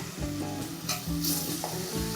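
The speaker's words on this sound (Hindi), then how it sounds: "अब ये इमली वाली जो पानी है वो हम इसमें डुबकी की सब्जी में ऐसे डाल" Tamarind water poured into a pot of simmering dubki curry, a Jharkhand dish, giving a steady close sizzle and bubbling with stirring throughout and no talk.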